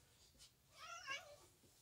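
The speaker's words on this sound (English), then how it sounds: "That was the cat." A domestic cat gives a short, faint call followed by a clearer, drawn-out meow with rising and falling pitch, heard close by in a quiet room with no talking.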